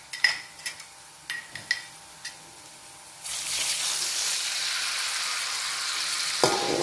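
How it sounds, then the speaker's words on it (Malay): A few light metallic clinks in a pan, then a sudden loud sizzle of garlic frying that hisses steadily until the end. "Sudah kita goreng garing bawang putih, kita taruh air asam."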